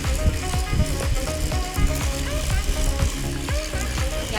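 An electric whisk beats buttercream in a bowl, giving a continuous busy whirring and scraping with rapid rhythmic clatter from the beaters, close and moderately loud, and no voices.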